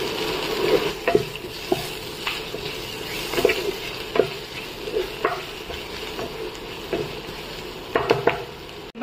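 Onion browned with garlic and ginger paste sizzles in a pan, a steady frying hiss broken by repeated scraping stirs of a spoon, close and fairly loud, with no voices.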